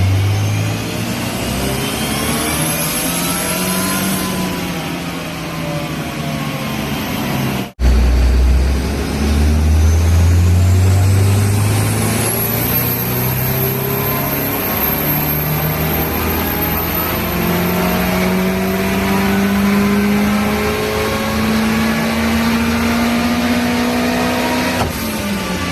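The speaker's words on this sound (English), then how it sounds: "he sent us a couple of videos of that on the dyno" A rebuilt Cosworth engine runs on a dyno, loud and close, sweeping up through the revs twice, the second pull a long steady climb in pitch lasting most of the run.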